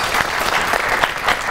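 A studio audience at a comedy show claps for an arriving guest in a short, dense burst of close, continuous applause.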